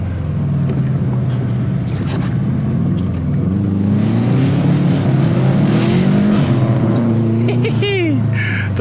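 A Subaru Impreza lapping a race circuit, its engine droning loudly and rising and falling in pitch through gear changes, with tyre squeal near the end and a person talking over it.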